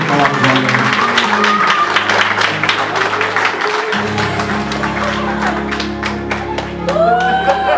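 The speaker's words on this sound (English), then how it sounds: "how about a round of applause for Chris and his on dance along with his mom" A crowd claps and cheers after Chris's dance with his mom, the dense, steady applause sustained throughout with scattered sharp claps and some voices.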